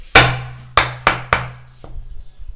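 A garlic clove being crushed on a board: four sharp, loud thuds in quick succession, then a softer knock and faint rustling.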